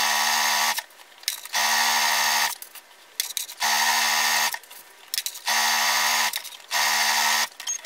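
A sewing machine stitches fabric for shorts in repeated short runs of steady motor hum, each about a second long, separated by brief pauses, heard up close with no talking.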